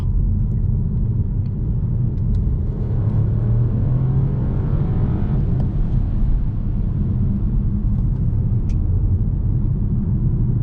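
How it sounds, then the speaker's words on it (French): Inside a Mini Countryman hybrid with a three-cylinder engine accelerating in sport mode, a loud, constant low cabin rumble of engine and road noise drones on without pause and without talking. "on ressent quand même la sonorité typique du 3 cylindres"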